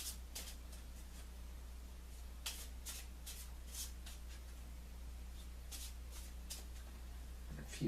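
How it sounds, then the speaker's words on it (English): A Lenormand card deck is overhand shuffled up close, giving soft, quiet, repeated papery slaps and flicks in an irregular rhythm over a faint steady background hum, with no talking. "So I'm going to do a few overhand shuffles."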